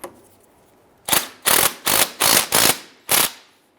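A ratchet tightens a castle nut on the outer tie rod of a 1999-2004 Jeep Grand Cherokee in six loud, close bursts of rapid clicking, separated by short pauses.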